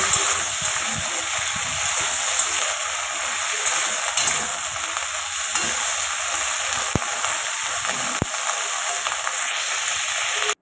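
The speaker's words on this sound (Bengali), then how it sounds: "তো ভেন্ডিগুলোকে কিন্তু আমি ভালো করে ভাজা করে নেব।" Okra frying and being stirred in hot oil, giving a steady, close, loud sizzle throughout with a couple of sharp clicks near the end.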